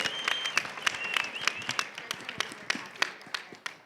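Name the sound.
audience applause for the AV crew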